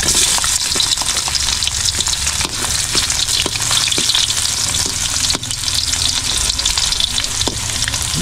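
Ginger and garlic fry together in a pan, a loud, close, steady sizzle that runs unbroken throughout with faint stirring clicks and no voices.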